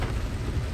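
Rain falls steadily during a flood at Chiang Mai, Thailand, a dense, continuous wash of noise with a low rumble beneath and no voices.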